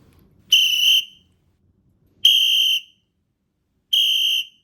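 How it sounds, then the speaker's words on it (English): Three sharp, high whistle blasts sound alone, each about half a second long, evenly spaced with silence between them. "When you hear 3 whistles like that, you freeze, listen to them."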